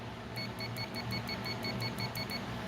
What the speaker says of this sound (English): if we take trusty UT123, put it in beep mode,